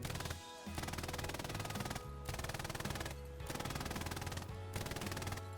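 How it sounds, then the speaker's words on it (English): Machine gun fire in the World War II video game Hell Let Loose, loud sustained automatic bursts fired close up, three long strings of rapid shots separated by brief pauses. "machine gunners can kill half-track drivers"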